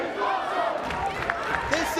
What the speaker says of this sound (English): Listen to the crowd at the impact zone.